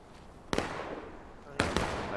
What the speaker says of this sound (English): A lot of shooting going on over there.